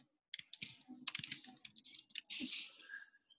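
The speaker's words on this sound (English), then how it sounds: "I'm typing to him now" Computer keyboard typed in quick, irregular bursts of clicks and key taps, close and clear, with a brief pause at the start and a denser run of keystrokes near the end.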